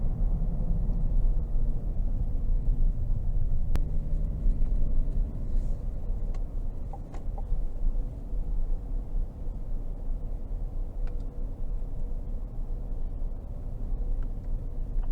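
Low, steady engine rumble from a 2022 GMC Sierra 1500 Denali with the 5.3 engine, driven in sport mode with paddle shifts, heard from inside the cab as a continuous drone without high revving.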